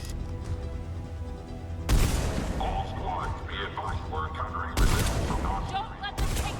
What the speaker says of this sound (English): Look at this beast of a sniper rifle I got.